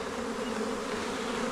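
Honeybees from packages swarm around a backyard hive during installation, a steady close droning buzz of many insects with no speech.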